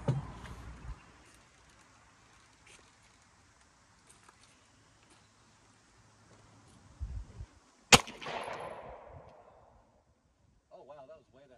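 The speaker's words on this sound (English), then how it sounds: "I'm just gonna put 1 round down" A single sharp gunshot from a binary AR-15 pistol cracks loudly once partway through, its echo trailing off over a couple of seconds, with quiet outdoor background and faint talk before and after.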